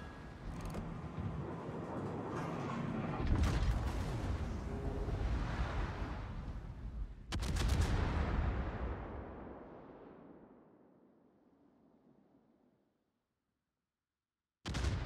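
Tier 8 battleship HMS Hawke's main guns fire in World of Warships: a deep, loud broadside blast opens, a second heavy salvo follows, and a long rumbling decay fades into near silence.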